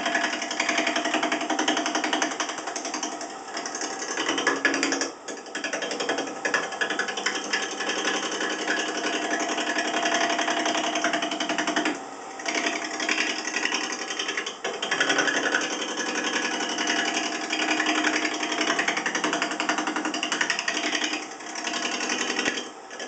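A wood lathe roughs a wood blank down to a cylinder, giving a continuous gritty, chattering drone with brief dips as the tool shifts, steady and close throughout with no talk.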